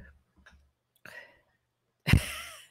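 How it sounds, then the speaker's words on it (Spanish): A stifled half sneeze from a man, a single sudden breathy burst at the end following a few faint breaths and soft mouth noises in a quiet room. "Medio estornudo."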